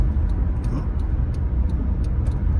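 Car driving slowly along a road, a steady low engine and tyre rumble heard from inside the cabin with faint periodic ticks, no talking.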